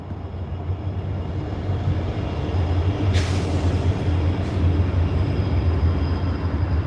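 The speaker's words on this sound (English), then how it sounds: "That noise you hear is a cargo train that runs behind the detention center." A cargo train passing behind a detention center produces a steady, loud low rumble and roar throughout, with a brief high screech or hiss partway through.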